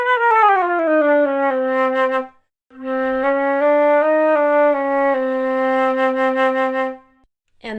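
A Fesley flute is played in its low range with a sequence of sustained, breathy notes. There is a short pause partway through, then more of the low line, all close and solo with no voices.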